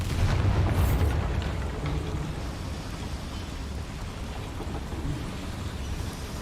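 A Bombarda blasting spell goes off in Hogwarts Legacy near a boiler, a deep booming burst at the start that fades into a long rumbling, crackling tail.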